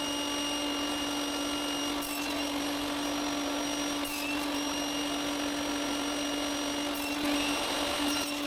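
A power tool whines steadily while cutting 6.5-centimetre-wide wooden pieces to length for a napkin holder, a constant high buzzing tone with brief bursts of cutting noise at regular intervals, close and fairly quiet.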